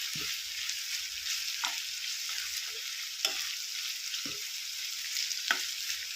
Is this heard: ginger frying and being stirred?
yes